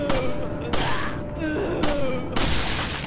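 Resident Evil 4 gunfire on PS2 during a boss fight: four loud, booming shots in an uneven sequence, each with a ringing tail, with game sounds between them.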